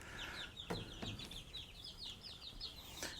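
Chickens cluck and chirp in quick, repeated calls, fairly faint, with a few sharp knocks in the background.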